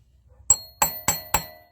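A screwdriver struck to knock out a magnetic wheel, four sharp, ringing metallic hits evenly spaced and close, each decaying quickly.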